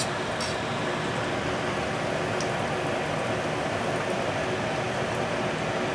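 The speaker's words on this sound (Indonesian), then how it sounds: "Sepertinya minyaknya sudah panas, ini bisa dicemplungkan." Food fries in hot oil with a steady, close, dense sizzle that holds evenly for the whole stretch, with no talking over it.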